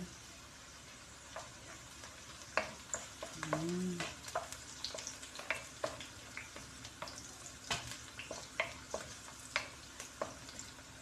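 Garlic frying in a hot pan for a Filipino dish, a steady sizzle under frequent sharp clicks and scrapes of a utensil stirring, with a brief louder hiss midway.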